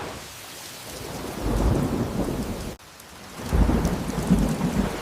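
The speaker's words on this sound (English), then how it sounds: "here comes Cloudy with some rain" A thunderstorm with steady rain gives low, rolling thunder that swells twice beneath a constant wash of falling rain, with no voices.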